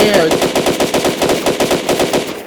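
Rapid bursts of gunfire ring out in the video game FNAF World, a dense, steady automatic rattle of evenly spaced shots, loud and continuous with no talking.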